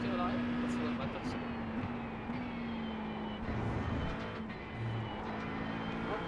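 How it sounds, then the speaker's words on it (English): Engine drone of an LMP2 prototype race car in the iRacing sim during a Daytona 24-hour race, a steady roaring tone that swells as another car closes in, under continuous talk. "We have a LMP2 closing in."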